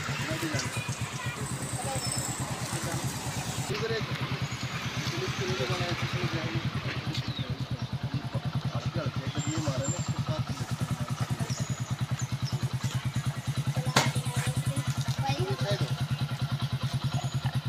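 A motorcycle ridden by a mother chugs steadily, close and continuous, with a fast engine thrum throughout and people talking over it.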